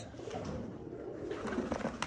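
Pigeons kept and flown as a hobby give soft, repeated cooing calls over steady outdoor background noise, with nobody talking.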